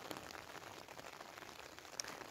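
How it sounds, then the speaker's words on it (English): Steady rain on the Offa's Dyke trail between Hay-on-Wye and Kington patters continuously on a surface, a soft even hiss with scattered drops, fairly faint and with no voices. "As you can hear, it's raining."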